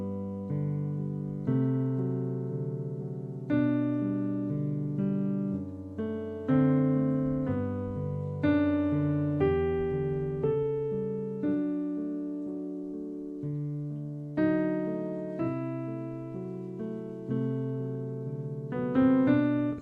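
Solo piano plays a gentle arrangement of a classical slow-movement melody, clear single notes and soft chords unfolding at an unhurried pace, close and moderately quiet with no speech.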